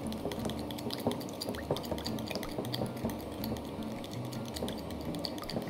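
A spoon stirs Caesar salad dressing ingredients with black pepper and salt in a bowl, giving quick, repeated clinks and scrapes of metal against the dish in a busy, steady rhythm, close up.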